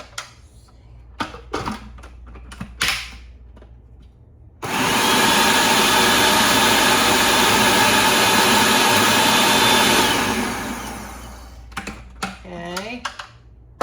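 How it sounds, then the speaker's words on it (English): A food processor purees fresh peaches, a loud steady broadband whir that runs for about five seconds, surrounded by quieter clatter and handling sounds before and after. "Don't you just love a food processor?"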